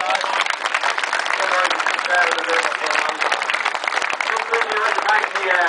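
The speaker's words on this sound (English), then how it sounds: "just one more round of applause for Clash" Applause from the crowd at a university football cup celebration, dense clapping mixed with a bit of voices and cheering, continuous and fairly close.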